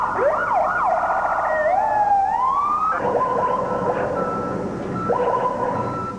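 Several ambulance sirens wail and overlap in busy traffic after the 1993 World Trade Center bombing, rising and falling in pitch, then a steady two-tone siren switches on, loud and close.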